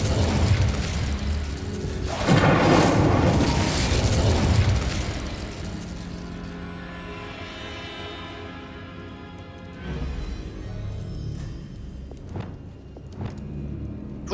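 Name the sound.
Incendio fire spell effect in the video game Hogwarts Legacy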